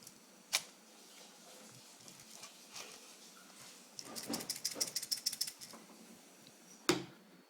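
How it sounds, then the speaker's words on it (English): A pepper grinder shaped like a Rubik's cube being twisted, giving a quick run of ratcheting clicks in the middle, with a couple of isolated clacks before and after in a quiet room. "This one, it's a pepper grinder. As you turn it, pepper comes out."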